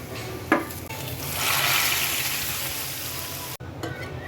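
Whole cumin seeds drop into hot oil in a pan for a rohu fish head dish, with a quick clatter at first and then a crackling sizzle that swells and holds, close and fairly quiet.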